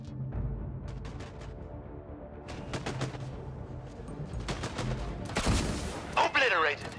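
Bursts of sci-fi gunfire from the video game Disintegration crackle in clustered volleys, with sharper louder shots near the end over a low background rumble.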